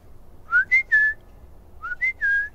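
A person whistles an imitation of a bird call, two groups of three short rising-then-level notes separated by a pause, clear and close against a quiet background.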